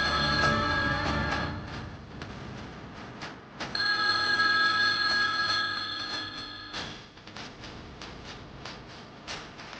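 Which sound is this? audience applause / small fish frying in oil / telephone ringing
telephone ringing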